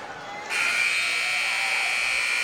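At a high school basketball game between Cleveland and Ooltewah, a loud, steady electronic buzzer sounds to end the third quarter. It blares continuously over the hum of the gym.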